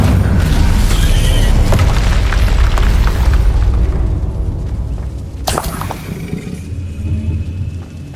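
The Incendio fire spell being cast in Hogwarts Legacy, a loud, deep whooshing rumble and roar that eases off midway, followed by a sharp crackling burst and lighter magical effects.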